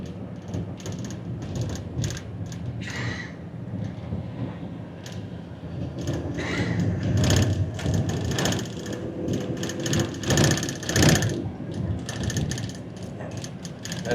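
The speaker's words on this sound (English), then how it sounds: "That's our rattling window." Window rattling inside a moving tour vehicle on Gibraltar, a continuous jittery clatter and buzzing over low road rumble, with louder bursts of rattling in the middle.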